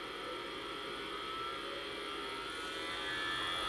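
An old IBM XT computer spins up with a steady whirring hum of fan and drive motor that builds slightly in strength, with no one talking.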